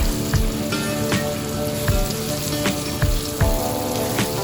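Ground chili paste added to hot oil in a frying pan for sambal, giving a steady, dense sizzle and crackle with small popping spatters throughout, close and continuous.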